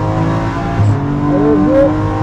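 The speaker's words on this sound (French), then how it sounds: "être le plus droit possible pour accélérer. Et c'est parti, on met la louche." A BMW M4 GT4 race car accelerates at full throttle, its engine note loud and close as the pitch climbs steadily in a strong rising drone with harmonic layers.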